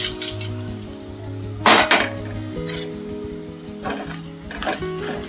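Bitter gourd pieces drop into a pan of onion tempering, with loud metallic clinks and scraping of a utensil against the pan over a low sizzle, and no talking.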